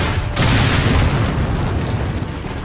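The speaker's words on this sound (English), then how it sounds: "I have a rocket launcher." A rocket launcher blast in Resident Evil 4 on PS4 erupts as a loud, sustained rumbling explosion that fills the whole moment with heavy low boom and debris-like roar.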